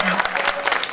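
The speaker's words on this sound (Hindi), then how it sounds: "आपकी तालियां अभी भी कमजोर है।" Thin applause from a comedy poetry gathering audience in Ujjain, a short burst of scattered clapping with some crowd noise, steady and moderately close throughout.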